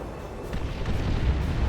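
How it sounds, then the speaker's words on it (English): Ork stick bombs exploding in Warhammer 40,000: Dawn of War 2 during a battle between Imperial Guard and Orks, a loud rumbling run of blasts that swells after the first half-second and keeps booming to the end. "There's some stick bombs."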